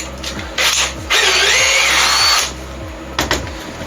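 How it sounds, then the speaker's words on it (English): A power drill fitted with an 8mm bit whirs in short bursts, with one longer sustained run of a couple of seconds, close and loud, with brief pauses between. "So the first thing I need to do is get an 8mm drill bit in the drill."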